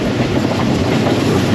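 A train rolls through the abandoned Ratiyal railway station on the single-track Lahore to Rawalpindi line, a loud, constant rumble with a rhythmic clatter of wheels throughout.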